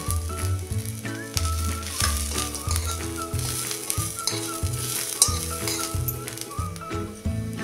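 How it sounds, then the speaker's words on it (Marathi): Onion, ginger, garlic and spices sauté in a pan with a continuous sizzle, while a spoon or spatula strikes and scrapes the pan in a repeated rhythmic clinking pattern throughout. "त्यात आता हे आलं लसूण आणि हे मसाले सगळे टाकून परतून घेऊया"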